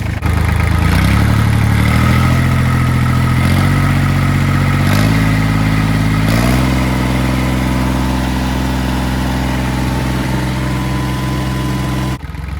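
A replacement engine in a Kubota L3000DT tractor runs steadily and loudly up close, its pitch stepping up in stages as the throttle opens, then holding a constant drone.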